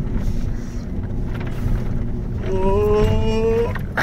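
Jeep Rubicon tires spinning on a snowy trail, a steady engine drone that rises into a loud whining wheelspin with climbing tones near the end, heard close.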